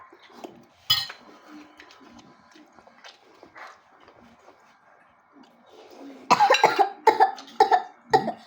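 A person coughs sharply once early on at a home meal, followed later by a cluster of loud clinks and clatters of dishes and cutlery, with low household murmur between.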